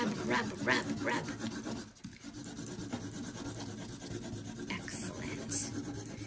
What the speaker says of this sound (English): rub, rub, rub your crayon